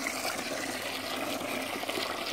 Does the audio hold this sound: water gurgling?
yes